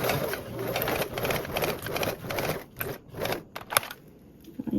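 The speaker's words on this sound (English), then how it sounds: "Sew up and then back tack back." A sewing machine stitches a 3/8-inch seam on a duffle bag and then back tacks, a steady close mechanical whir broken by brief pauses and a shorter reverse burst near the end.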